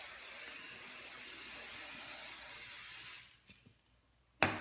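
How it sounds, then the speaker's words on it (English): Hairspray hisses from an aerosol can onto freshly wand-curled hair in a steady, close spray lasting about three seconds, then stops, followed by a faint tap and a short sharp knock. "Use a lot of hairspray."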